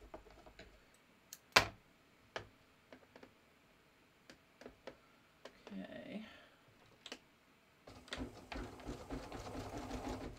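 Embroidery machine stitching a design on knit fabric, a rapid mechanical ticking and clatter that starts after scattered clicks and runs steadily near the end, with talk over parts of it.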